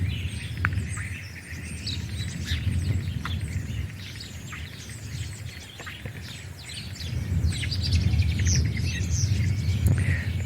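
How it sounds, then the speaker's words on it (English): A male blackbird chatters in the background among other chirping birds, calls scattered across the whole stretch over a low steady rumble of outdoor ambience, with no one speaking. "Blackbird chattering away in the background there"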